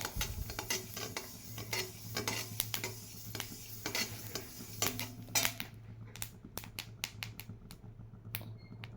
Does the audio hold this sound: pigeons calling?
no